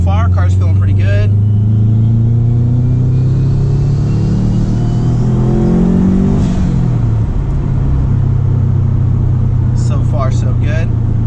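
Subaru WRX with turbo and 268-duration cams roars under hard acceleration on a pull, a loud engine drone rising steadily in pitch, with brief voices at the start and end.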